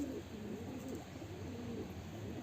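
A white pet pigeon coos close by in a soft, repeated low rolling call, steady and alone without any talking.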